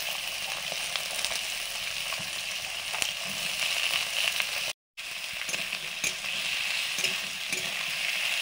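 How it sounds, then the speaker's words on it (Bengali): Potatoes and eggplant fry in oil with panch phoron, a steady dense sizzle running throughout with light stirring scrapes, broken once by a brief gap of silence. "আলু বেগুনগুলো ফোড়নের সঙ্গে ভেজে নিচ্ছি"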